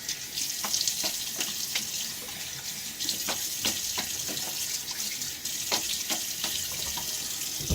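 Water runs steadily from a tap at a sink during a wet shave, a continuous hissing splash with small clicks and knocks from rinsing, close and alone without talk.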